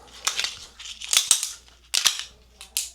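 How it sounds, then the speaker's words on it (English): Handgun reload at a shooting range, with a magazine dropped and the next one inserted, giving a few sharp metallic clacks and snaps in quick bursts, close up, alone. "when I initiate the reload and then drop the magazine, insert the next one."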